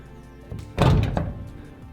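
An empty van's back door thuds shut once, a single close, heavy, muffled slam with a brief rattle.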